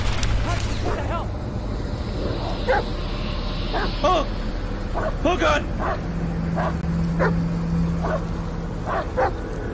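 A dog in the Blair Witch horror video game barks, yips and whimpers in a series of short, repeated cries over a low rumbling game background, while a player exclaims loudly.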